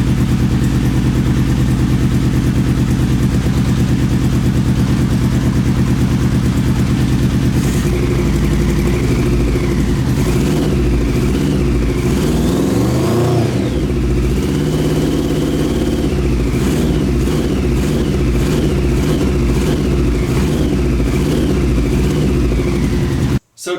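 A Honda CBR 600 engine in a reverse trike runs loud and close, idling steadily, then revving up and down in several rising and falling sweeps before cutting off abruptly at the end.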